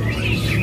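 A caged kacer (magpie robin) sings a continuous bright, warbling song, loud and close, with no talk over it.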